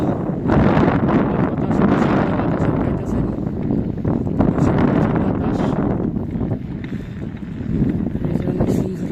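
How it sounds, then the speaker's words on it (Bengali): Strong wind buffets the microphone at Al Bayt football stadium in Al Khor, Qatar, producing a loud, continuous low roar with gusty surges across the whole clip. "আর প্রচুর বাতাস এখানে, হয়তো"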